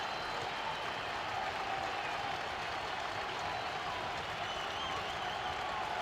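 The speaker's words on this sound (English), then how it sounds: "the crowd here at Shea Stadium rises to its feet" A baseball crowd at Shea Stadium during a 2000 World Series game rises to its feet, a dense, steady wash of cheering and applause that holds evenly throughout, with a broadcaster's voice faintly underneath.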